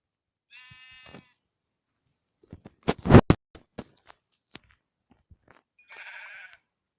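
Sheep bleat in a short outdoor sequence: one wavering bleat, then a burst of scattered knocks and thumps, then a second quavering bleat near the end, each fairly close and clear.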